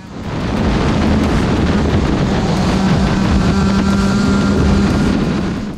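A racing go-kart engine drones loudly and continuously close to the microphone as the kart laps a track, with heavy wind rush and no voices.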